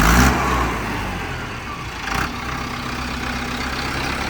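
A Mahindra Arjun 605 tractor converted to four-wheel drive runs close by with a loud, steady diesel rumble that swells briefly midway, as if revved.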